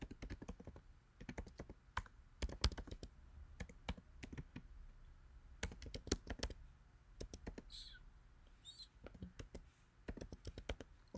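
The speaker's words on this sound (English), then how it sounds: "Ensuite, nou tape komand sa." Fingers typing a command on a computer keyboard, irregular bursts of quiet close clicks with short pauses between.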